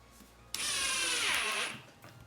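A Ryobi brushless impact driver spins up abruptly to a high whining run for about a second as it drives a screw, then cuts off, loud and close against a quiet background.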